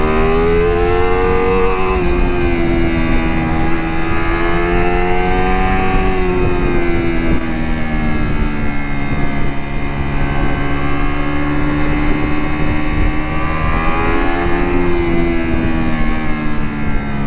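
Ducati Multistrada V4 Rally motorcycle engine under way, a steady loud V4 drone with rising and falling pitch as the throttle changes, continuous wind-buffeted roar throughout with no talk.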